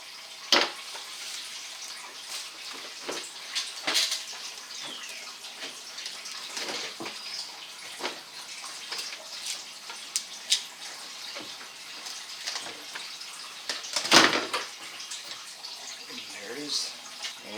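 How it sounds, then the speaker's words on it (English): Antifreeze drains from a GMC Sierra 5.3L engine during a water pump job, a continuous splashing trickle of liquid with scattered louder splatters and occasional metallic clinks nearby. "So while that antifreeze is draining down there"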